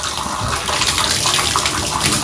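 Shower and tub water runs at full flow after a stuck diverter is replaced, a loud, continuous broadband rush of water splashing into the tub with no pauses.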